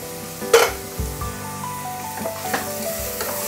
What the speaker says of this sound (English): Now once the onion is brown, slight brown, I'll be adding in tomato, 1 medium sized tomato, chopped.